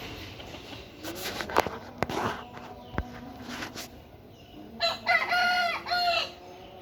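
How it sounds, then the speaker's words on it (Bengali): Chickens perched up in trees and on rooftops give a few loud, close calls toward the end, over a faint outdoor background with scattered light rustles and knocks. "এই মুরগিগুলো গাছ উঠে গেছে, দেখছেন?"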